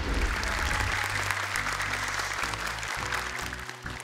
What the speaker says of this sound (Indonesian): Boleh tepuk tangan yang pertama adalah Kak Nabila Abdirrahim.